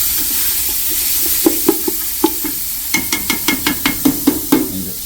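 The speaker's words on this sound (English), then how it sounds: "Again, we're sauteing. We're not frying." Carrots coated in oil sauté in a pan, a soft steady sizzle under a run of sharp, evenly spaced stirring scrapes and clinks that grow quicker and closer together toward the end.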